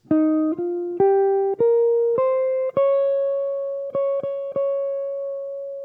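A clean guitar plays a slow melody of single sustained notes stepping upward, each one ringing clearly before the next, ending on a long held tone.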